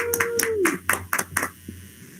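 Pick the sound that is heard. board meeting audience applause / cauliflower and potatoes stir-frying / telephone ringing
board meeting audience applause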